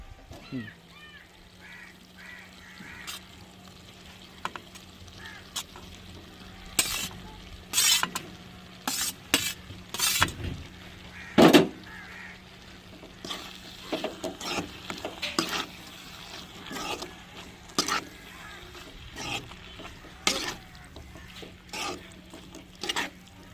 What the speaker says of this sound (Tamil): எல்லாமே வெந்துருச்சுங்க அந்த மசாலையிலையும் சோத்தையும் போட்டு பெரட்டி எடுத்துருவோங்க